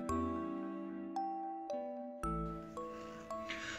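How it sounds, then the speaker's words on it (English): A school bell rendered as a sequence of bright chiming tones, about seven struck notes in an uneven melodic pattern, each ringing out and fading, clear and alone without speech. "Ring! The bell rang."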